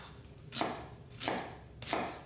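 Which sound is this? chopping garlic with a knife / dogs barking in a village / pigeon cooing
chopping garlic with a knife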